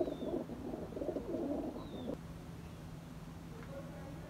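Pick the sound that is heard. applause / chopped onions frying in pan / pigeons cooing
pigeons cooing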